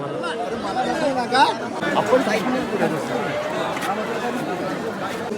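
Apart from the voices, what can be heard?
dense pilgrim crowd chatter at Alandi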